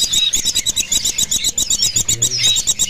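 A young kedasi cuckoo chick at a bird seller's stall gives rapid, high, thin chirps in quick repeated bursts, fairly close and steady throughout, with no talking.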